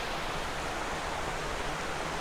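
Castle Clough waterfall in Lancashire, a constant broadband rush of falling water, close and steady with no breaks and no voices.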